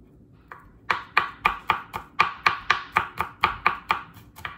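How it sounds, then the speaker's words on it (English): Ginger and garlic minced with a knife on a cutting board, a close run of about fourteen sharp, evenly spaced chops at a brisk steady rhythm, with no talking. "I just need to mince my ginger this much for 8 ounces and 2 cloves of garlic"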